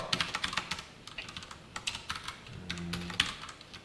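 Quick, light clicks from a computer keyboard while someone writes HTML and CSS code, arriving in uneven bursts of keystrokes with short pauses between them, close and quiet.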